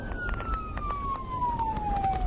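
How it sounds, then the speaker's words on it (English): A sheriff's patrol car siren wails in a single falling tone that sounds somewhat distant under steady background noise, with no talk. "With red lights and siren blaring, Murphy prods his patrol vehicle towards the"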